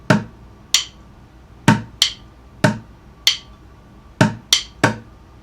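Two measures of bucket drumming, sticks clicking against each other between hits on the middle of a plastic bucket: ten crisp, close strokes in a syncopated pattern, some paired quickly, with no voices.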